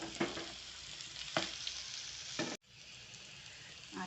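A spoon scrapes through yellow potato sabzi in a pan three times over a soft, continuous sizzle, with a sharp knock near the end.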